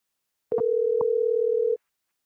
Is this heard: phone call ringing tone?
yes